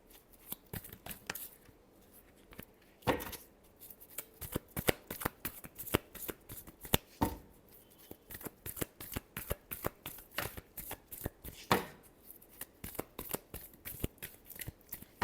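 Tarot cards are shuffled by hand in a long run of crisp, rapid riffles and flutters, close and fairly quiet, with short pauses between bursts.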